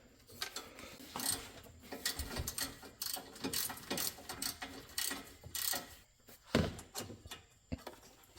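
A stubby ratchet clicks in quick bursts while an exhaust is fitted to a Club Car DS golf cart, with rapid pawl ticks and occasional metallic knocks, close and fairly quiet.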